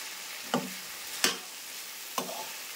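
Potatoes and carrots sizzle in a pan under a steady fry hiss while a spoon stirs in salt and turmeric, giving three distinct scraping strokes spaced about a second apart.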